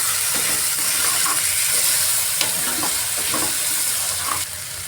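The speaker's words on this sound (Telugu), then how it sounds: "ఇప్పుడు మనం ఈ ఆనియన్స్తో పాటు ఫ్రై చేసేసుకోవాలి" Tomato paste and onions fry in a pan with a steady close sizzle and hiss, broken by a few soft stirring scrapes.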